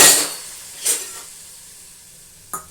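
Water hits spicy masala in a hot pan, a sharp burst of hissing sizzle at the start followed by two shorter spurts, close and brief against a quiet background.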